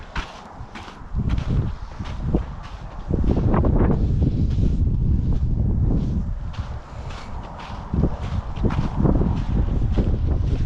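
Wind buffets the microphone on a hiking trail along the Great American Rail Trail in Central Washington, a loud, gusting roar that surges and eases, mixed with crunching footsteps.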